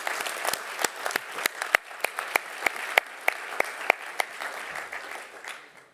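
Applause from the audience at the UIA Florence Congress 2014 closing ceremony, a hall of scattered, moderately loud clapping with sharp individual claps standing out before it fades toward the end.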